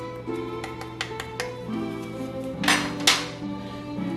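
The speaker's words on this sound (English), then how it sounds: "And I give that a good stir." Sweet potatoes and apples with grated nutmeg being stirred in a dish, a series of close utensil clinks and scrapes against the bowl with two louder knocks near the end.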